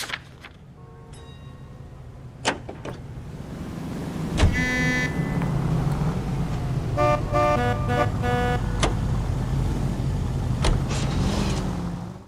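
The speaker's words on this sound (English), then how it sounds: "Hey, Cole, let's get moving. You can drive." Car engine hum in the video game L.A. Noire, steady and fairly loud throughout, with scattered clicks and brief tonal chimes layered over the drone and no talking.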